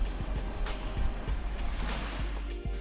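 Gentle ocean waves on the Gangwon-do coast of Korea wash in and recede in soft, steady swells, with a low continuous rumble of surf and no voices.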